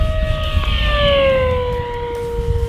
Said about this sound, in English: Full throttle one more time, then we'll get ready for a landing.